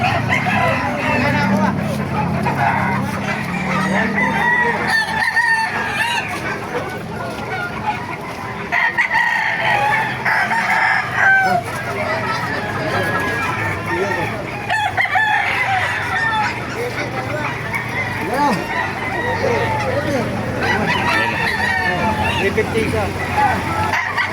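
Several roosters crow repeatedly among clucking chickens at a poultry market in Baliuag, with people talking and a busy crowd murmuring throughout.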